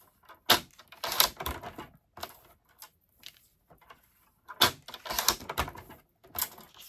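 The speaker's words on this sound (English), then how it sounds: "I'm just going to start trimming and see how much I need to trim off." Sharp clicks and slicing strokes from a paper trimmer cutting white cardstock for a handmade card, arriving in short uneven bursts with quiet gaps between, close and fairly soft, with no talk.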